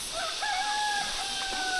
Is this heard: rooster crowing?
yes